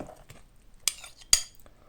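Bowl and cutlery handled in a home kitchen, two sharp clinks of metal against a dish between softer rustling handling sounds, close and alone.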